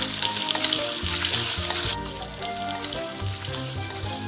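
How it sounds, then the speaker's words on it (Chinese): Meat stir-frying in hot oil in a pan, a loud continuous sizzle that eases after a couple of seconds and carries on under faint stirring, close by and with no talk. "把肉放上去炒香"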